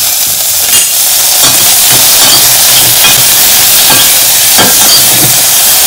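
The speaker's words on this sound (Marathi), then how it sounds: "नुसती जस्ट फ्राय करून घ्यायचं एकदम." Salad ingredients frying in a little oil in a pan give off a loud, continuous close-up sizzle and hiss, with faint scraping stirs cutting through it now and then.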